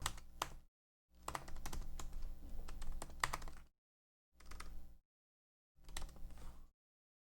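Keys clatter on a computer keyboard as a domain name is typed on the GoDaddy site, in four quick close bursts separated by silent pauses.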